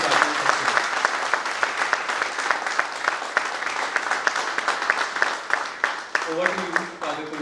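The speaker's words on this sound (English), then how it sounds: "Please give a huge round of applause for Professor Dr." Steady applause from a conference audience at an AI conclave, dense rapid clapping sustained for several seconds, fading slightly near the end as a voice begins over it.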